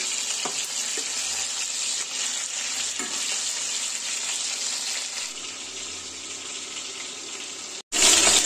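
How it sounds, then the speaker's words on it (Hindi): Chicken Bangalore frying in a pan, a steady loud sizzle that runs unbroken for several seconds with faint stirring clinks, then a brief dip and a louder burst of hiss at the end. "चिकन बेंगलोर बन रहा है"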